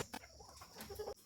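Farm chickens cluck briefly and faintly, a few short fowl calls over a quiet background.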